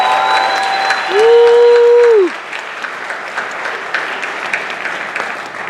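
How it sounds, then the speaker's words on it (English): Dense crowd applause at a graduation ceremony, loud and steady throughout, with a held tone ringing over the clapping near the start. "Give yourselves a round of applause."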